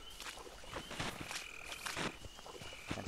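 Frogs croak repeatedly in the game Miasmata: a steady chorus of rasping calls close by over a constant outdoor ambience, with no talking.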